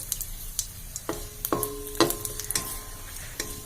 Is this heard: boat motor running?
no